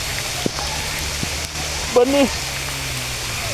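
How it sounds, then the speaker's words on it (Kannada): Heavy rain falls outdoors as a steady hiss throughout, and someone speaks briefly over it while walking in the downpour. "ತುಂಬ ಮಳೆ ಬೀಳ್ತಾ ಇದೆ"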